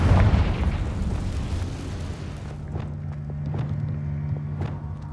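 A Confringo fire spell bursts in the video game Hogwarts Legacy, a loud broad rumbling explosion that fades into a low sustained hum with scattered crackles and small pops trailing off.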